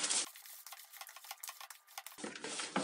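Minced meat mixed with bread and egg is kneaded by hand for İzmir köfte in a restaurant kitchen, giving soft, wet squelching and slapping in an irregular rhythm, close and quiet.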